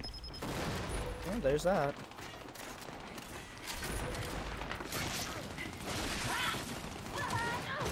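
Gears of War gunfire rattles in bursts among mechanical clicks and game effects, at moderate distance, while a player talks briefly over it.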